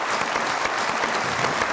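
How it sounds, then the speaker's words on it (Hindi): The studio audience of the Mazaaq Raat comedy talk show claps for guest Nasir Adib, a brief, dense burst of many hands that stays loud and steady from start to finish. "बहुत सारी तालियां नासिर अदीब साहब के लिए।"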